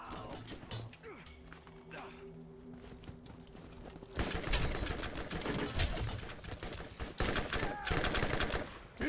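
Rapid gunfire from the video game Borderlands, dense bursts of shots rattling loudly through the second half after a quieter stretch of scattered shots and tones.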